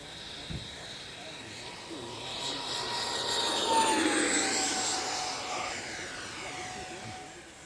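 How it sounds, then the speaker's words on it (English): A radio-controlled SR-71 model jet with electric ducted fans makes a high-speed pass, a smooth whooshing whine swelling to a peak midway and then fading as it moves off, heard outdoors without talk. "Come around, we'll do a high-speed pass. Just really hear those fans."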